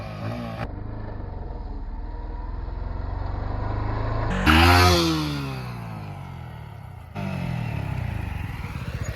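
A Yamaha MT-15 V2 motorcycle revs sharply for a wheelie, the engine note rising and falling in a loud close burst before settling back to a steady run.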